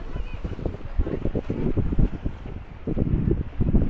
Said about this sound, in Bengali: একবার আওয়াজটা শুনুন, হাওয়া আর ঢেউয়ের।